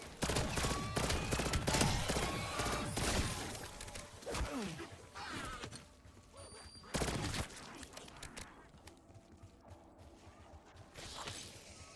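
Burst pistol in Call of Duty: Black Ops (Ashes of the Damned zombies) firing quick clustered bursts of sharp shots, mixed with shattering impacts and mechanical game noise, at moderate level and fading between volleys.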